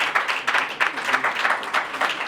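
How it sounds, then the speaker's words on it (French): Audience applause for Freddy at a Paris press event, a steady patter of clapping hands that swells and dips briefly with a faint voice or two mixed in. "Je voudrais qu'on applaudisse Freddy."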